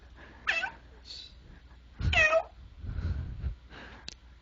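Pet cat meowing several times up close, with two drawn-out rising-and-falling meows and shorter softer calls in between, set against quiet room background.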